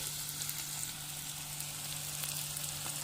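Raw chana dal frying with onion in a pan, a steady close sizzle with faint stirring, alone with a low hum underneath.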